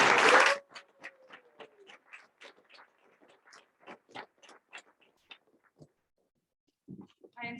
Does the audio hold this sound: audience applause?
yes